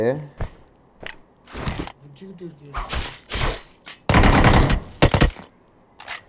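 Gunfire in the BGMI battle royale game comes as sharp bursts and single shots, including a sustained automatic burst near the end, mixed with players talking between and over the shots.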